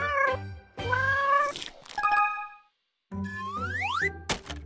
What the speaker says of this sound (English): Cat! Yes!